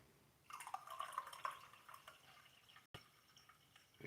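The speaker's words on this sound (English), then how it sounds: "Yeah, pour myself some Joe" Coffee is poured into a cup, a soft liquid trickle that runs for about a second and a half and then fades into quiet room noise with a small bump, faint and close, with no talking.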